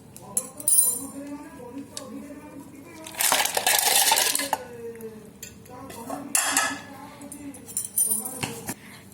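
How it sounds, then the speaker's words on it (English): Ice cubes clatter into a mixer jar while lassi is being made with curd at home, giving a couple of loud rattling bursts between quieter kitchen clinks, with a person talking in the background. "Now add some ice cubes."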